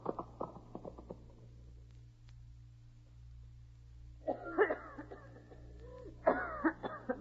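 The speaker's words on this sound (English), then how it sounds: "There now, honey. Try to stop coughing." A child coughs in a quick run of harsh coughs, then after a pause breaks into two more clustered fits, close and fairly loud, in a 1938 radio drama.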